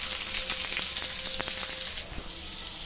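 Chopped onions sizzling in hot oil in a pan while momos are being cooked, a steady bright frying hiss with small pops and crackles. The hiss drops abruptly near the end.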